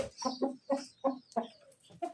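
A rooster clucks in a quick series of short, close calls, rhythmic and fairly soft, with a brief pause before a final cluck.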